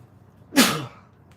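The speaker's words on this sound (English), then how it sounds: "I did sneeze into my t-shirt." One sharp, close sneeze bursts out of near silence and trails off quickly.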